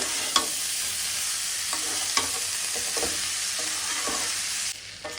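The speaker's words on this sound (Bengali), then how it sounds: "এই ডুমোরটাও এই মাছ মশলার সাথে ভালো করে কষিয়ে নিব" Figs being stirred and fried with prawns and masala in a pan: a constant bright sizzle with repeated spatula knocks and scrapes at an even pace, close and fairly loud.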